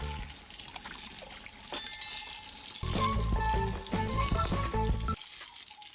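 Cow dung is stirred into water to make a plastering slurry for a mud courtyard in a Konkan village, giving close, continuous sloshing and splashing that swells louder midway before easing off.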